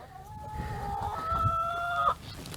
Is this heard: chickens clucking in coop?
yes